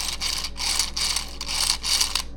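Hasbro Beyblade X left-spin string launcher with a grinding fault, pulled in five rhythmic bursts of close, raspy ratcheting grind separated by brief pauses.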